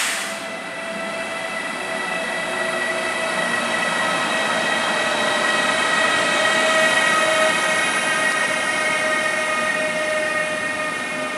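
Intercity train IC 2083 pulls out of Augsburg main station, a steady, loud rumble and hum with sustained tonal whine building gradually across the whole stretch, no voices.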